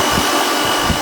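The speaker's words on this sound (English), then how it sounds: "I'm going to dry the hair off." A hair dryer blows steadily on a client's hair in a barbershop during a short tapered haircut, a loud, even broadband whoosh with no talking.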